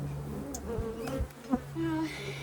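Honey bees swarm and buzz in an opened top bar hive, a close, continuous droning hum with the pitch wavering as individual bees fly near.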